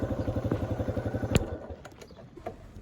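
A Yamaha XT250 motorcycle engine thumps in a steady rapid pulse while riding, then drops away into lighter clatter and rattles, close and moderately loud.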